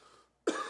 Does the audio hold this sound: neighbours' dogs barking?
no